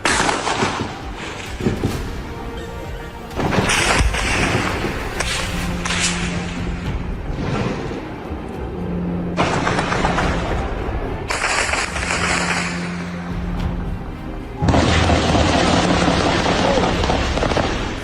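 Gunfire and shelling at night along the Line of Control in Pakistan-occupied Kashmir, with repeated bursts of cracks and booms, some loud and close, some more distant, continuing throughout with brief lulls between volleys.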